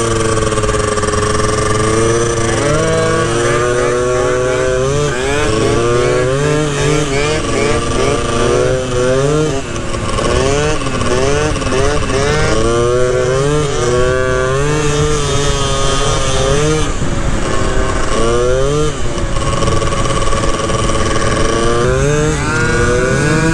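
A 1989 Honda Dio Elite scooter with a big bore kit, stroker engine and AF16 motor swap runs loud and close, its two-stroke engine revving up and down in rising and falling whines with uneven, choppy throttle.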